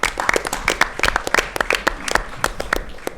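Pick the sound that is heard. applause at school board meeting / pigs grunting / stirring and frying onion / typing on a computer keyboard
applause at school board meeting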